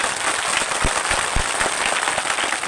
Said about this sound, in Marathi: आणि एकदा जोरात टाळ्या वाजवा.